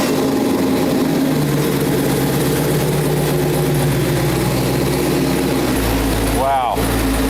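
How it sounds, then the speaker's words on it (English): A Chevrolet Camaro engine runs at a steady idle in a shop, a low rumble that deepens and swells near the end, with people talking over it. "I'll fire up the Camaro"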